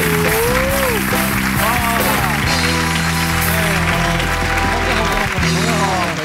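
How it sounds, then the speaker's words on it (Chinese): A television variety show's studio audience applauds to welcome a guest, a bright wash of clapping mixed under loud music and voices. "掌声欢迎洪启德"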